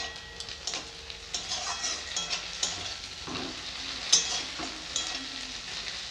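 Onions fry in a pan as ginger paste goes in, a soft steady sizzle broken by scraping stirs and light metallic clinks of a spoon against the pan, close and fairly quiet.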